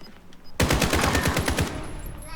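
Automatic gunfire in Call of Duty Modern Warfare on the Docks map rattles out in a rapid burst of close, loud shots after a short quiet lead-in, with faint game sounds trailing after.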